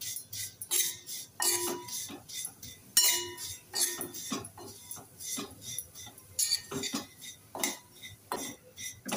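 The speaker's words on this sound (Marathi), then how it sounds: "आता ह्या सुद्धा थोड्या आपण परतून घेऊया." Vermicelli being stirred and roasted in a pan for kheer, with a spoon scraping and clinking against the metal in an uneven rhythm. The sounds are close but soft.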